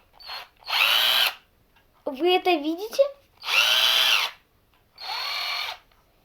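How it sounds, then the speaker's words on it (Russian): A battery-powered toy drill whirs in four short bursts, near and fairly loud, with someone speaking briefly between them. "Я дрель сделал."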